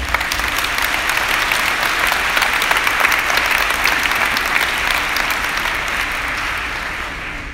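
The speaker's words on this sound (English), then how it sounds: "please let's give them another round of applause" A symposium audience applauding its organizing team, loud sustained clapping from a large crowd that stays full and even before tapering slightly at the end.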